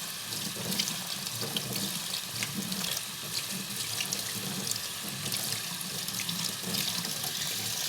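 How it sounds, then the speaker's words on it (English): Cold tap water runs steadily into a kitchen sink as black beans are rinsed, a continuous close hiss and splash with no pauses over the full length. "I'm rinsing with cold water"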